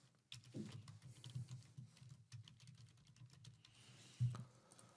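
Soft typing on a computer keyboard while entering an email address, a steady patter of light key taps with one firmer keystroke near the end.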